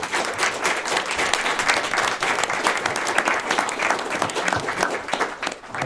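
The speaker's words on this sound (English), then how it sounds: "Can we get a quick round of applause for them?" An audience applauds a panel of experts at a hip seminar, a steady, dense round of clapping that holds for nearly six seconds without talk.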